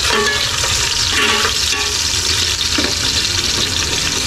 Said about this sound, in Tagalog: Yan, igisa muna natin to.